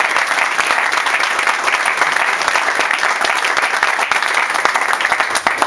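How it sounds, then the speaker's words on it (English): Loud, sustained applause from a crowd at a political fund-raiser honoring Assemblyman Mike Gianaris, dense continuous clapping filling the whole stretch without a break. "So let's give him a round of applause."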